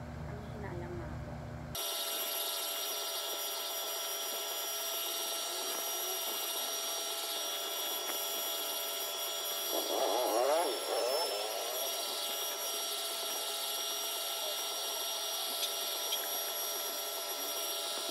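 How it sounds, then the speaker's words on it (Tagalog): An electric blow dryer runs steadily to dry a comforter, a continuous whirring motor hum with a high whine that holds for the whole stretch, with a brief voice in the middle. "Nag-blower lang ako."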